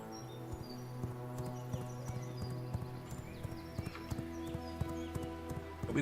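Steady clip-clop of horse hooves with a whinny in the game V Rising, rhythmic and fairly close, over a humming ambient background with no talk.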